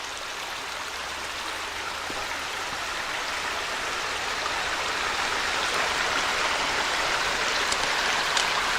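Steady rushing water fills the air, a creek tumbling continuously over small drops with a broad, even hiss and no voices.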